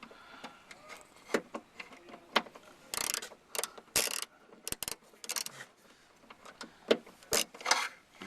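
Bolts on a Land Rover Freelander 2 rear tailgate trim are tightened with a ratchet, giving bursts of quick clicking pawl ratchets and short rattles, close and irregular, separated by quiet pauses.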